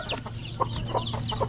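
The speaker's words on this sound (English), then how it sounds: "So we got the baby turkeys, got the baby chickens" Baby chickens on a farm in the Philippines cluck and peep in short, quick bursts, close by, over a low steady hum.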